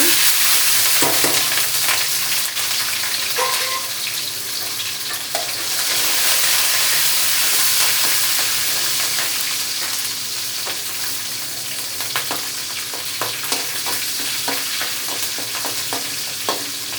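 Dried red chillies crackle and sizzle in hot oil with mustard seeds for a curd rice tempering, a steady close frying hiss with stirring scrapes throughout and no talk.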